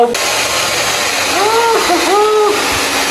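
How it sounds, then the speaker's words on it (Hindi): A hair dryer runs loudly and steadily in a hotel room at night, a constant broad airy roar with voices talking over it partway through. "ये ये सानू भाई कभी जिंदगी में हेयर ड्रायर नहीं लगाए रात में"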